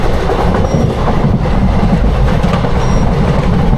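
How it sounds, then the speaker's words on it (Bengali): Gonda–Asansol express train, number 13510, running at about 100 km/h, a steady loud rumble of wheels and carriage with continuous rail noise throughout and no voices. "আমাদের ট্রেন এখন কিন্তু বেশ গতিতে টানছে,"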